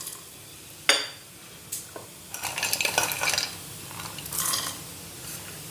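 A thick date and seed mixture is stirred and cooked in a pan, with sharp scrapes and clinks of a spoon against the metal and a soft background hiss.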